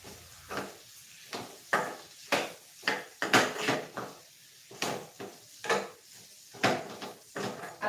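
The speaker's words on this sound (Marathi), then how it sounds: "तर हे मिक्स करूयात आता." A spoon scrapes and knocks steadily against a pan as bitter gourd curry is stirred together with ground peanut paste. The clatters are close and rhythmic, coming roughly twice a second, and no one speaks.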